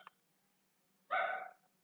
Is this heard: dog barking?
yes